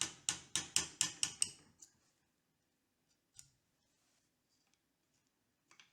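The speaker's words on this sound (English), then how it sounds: "Then punch the sight spring out using a pin punch." Pin punch tapping the rear sight spring out of a Swedish Mauser rifle: a quick run of about six sharp metallic taps in the first two seconds, then a couple of faint isolated clicks in near silence.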